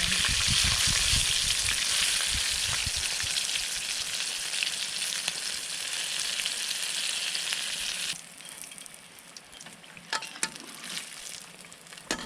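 Small crablets frying in shallow cooking oil in a home kitchen, a loud, dense, steady sizzle that drops to a softer crackle partway through, with a few scrapes of stirring.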